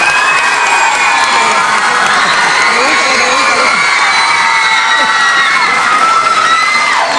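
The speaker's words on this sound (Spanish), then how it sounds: "Un aplauso," An interview audience cheers, whoops and shouts loudly and continuously, with children's voices in the dense crowd noise and some scattered clapping.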